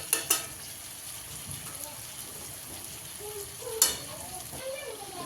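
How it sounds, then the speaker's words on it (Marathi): Ginger, garlic and spices sauté in a pan for pav bhaji with a steady close sizzle and hiss, broken by occasional sharp clinks of stirring. "आदा लसूण बी ॲड करू ह्याच्यामध्ये जाता जरा परतून घेऊया"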